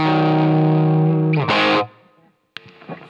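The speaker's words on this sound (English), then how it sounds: "Here is the unaffected signal, which is a Marshall origin on the verge of breakup." Electric guitar through a Marshall Origin amp with no pedal, set on the verge of breakup: a sustained, slightly gritty chord ringing loudly, then cut off, followed by a couple of short picked notes and string noise.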